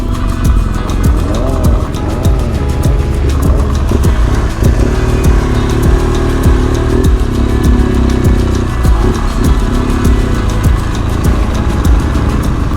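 Busy road traffic with cars and motorbikes passing close by, engines humming and revving continuously at a loud, steady level.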